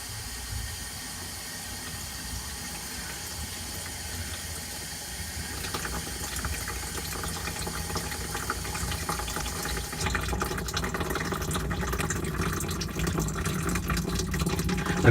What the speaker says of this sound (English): see if I can wash a little water down through the sink